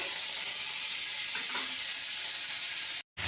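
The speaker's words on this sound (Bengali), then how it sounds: "তেলটা ভালোভাবে গরম হয়ে গেছে, এর মধ্যে আমি চিংড়ি মাছগুলো এবার দিয়ে দেবো। দিয়ে ভালো করে লাল লাল করে ভেজে নেব।" Prawns frying in hot oil in a wok give a steady, close sizzling hiss that runs unbroken for about three seconds and then cuts to a brief silence, with no voices.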